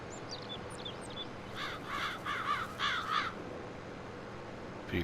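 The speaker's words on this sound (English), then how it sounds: "Few crows back there by the sound of it." A crow caws several times in a quick series, somewhat distant, over a steady background hiss with faint bird chirps beforehand, in the video game Farming Simulator 22.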